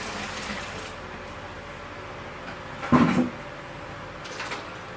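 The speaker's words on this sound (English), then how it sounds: "That's to bring down some of the water as I add the ice." Ice drops into cooling brine water in a brewing kettle, giving one short, loud clatter and splash in the middle of a quiet room hum, with a fainter knock near the end.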